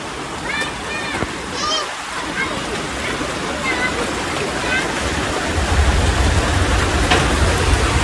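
Heavy rain pouring down continuously in a steady, loud wash of water, with faint birdsong and a distant voice in the background.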